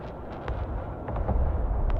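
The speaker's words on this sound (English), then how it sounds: "Oh, I took out the other jet." A jet is destroyed in the video game Broken Arrow: a continuous low explosive rumble with scattered sharp bursts and pops, loud and dense throughout, no talk.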